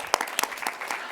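Audience applause at an ICT summit award ceremony: a brief burst of scattered individual claps, fairly close and light, lasting about a second.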